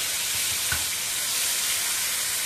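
Prepared spice masala, made with yogurt, hits hot oil already holding mustard seeds and cumin over high heat, setting off a dense, even hiss of sizzling with one light clink partway through.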